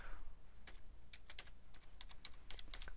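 A computer keyboard is typed on while entering a word into an Excel spreadsheet, giving a quiet run of separate crisp key clicks that speed up toward the end, with no talking.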